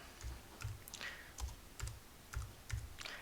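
Keys on a Mac keyboard tapped in short, crisp bursts of about seven clicks, each followed by a soft low thump, evenly spaced and close-up with no voices.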